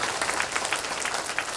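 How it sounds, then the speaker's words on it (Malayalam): A crowd at a one-day church retreat claps in thanks to the volunteers, giving a short, even burst of applause that is fairly close and carries no talk. "അവർക്കെല്ലാം കൂടി ഒരു നന്ദി പറഞ്ഞ് കയ്യടിച്ച്."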